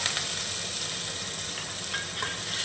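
Crushed ginger added to hot oil with frying spices, giving a steady, loud sizzle and hiss with faint stirring scrapes throughout while the pan fries for Mughlai paratha.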